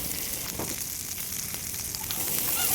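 Chicken curry fries and sizzles in a pan during an outdoor picnic near a farm field, giving a steady, dense hiss that grows slightly louder toward the end, with a few faint stirring clicks.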